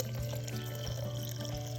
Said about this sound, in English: Then all you add after that is your clean, fresh water. Fill it to 1 liter full.